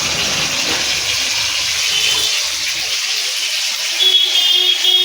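Water gushes and splashes steadily as mustard seeds are rinsed in a bowl, a loud continuous pour that thins out toward the end.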